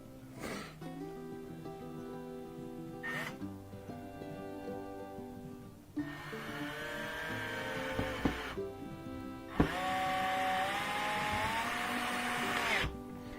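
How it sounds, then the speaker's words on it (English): Power drill driving screws into wooden boards of a chicken coop, several whirring bursts of rising motor whine separated by short pauses, loud and close, with no talking. "Put those screws in and get nice and level."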